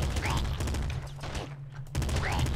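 Rapid bursts of gunfire in the video game Nuclear Throne rattle steadily and close, with a short lull in the middle before firing resumes.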